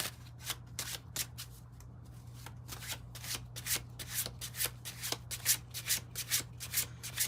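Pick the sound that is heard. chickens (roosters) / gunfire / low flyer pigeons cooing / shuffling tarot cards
shuffling tarot cards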